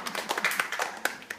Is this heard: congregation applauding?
yes